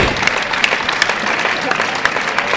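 A crowd at a world championship bowling medal round applauds after a strike, dense steady clapping with scattered cheers, heard up close under a commentator's voice.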